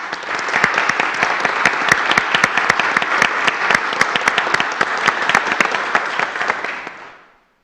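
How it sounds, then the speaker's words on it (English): Audience applause at a Lynn Haven city commission meeting, a loud, sustained wash of many clapping hands with crisp individual claps standing out, lasting several seconds before tapering off. "if you would please give them a round of applause."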